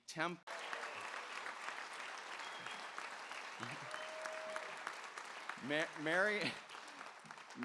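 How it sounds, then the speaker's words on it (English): An audience at a cancer center celebratory event gives sustained applause, a dense steady clatter of clapping lasting several seconds with voices talking over it near the end. "Now, I want you to give a big round of applause to Mary Beckerly"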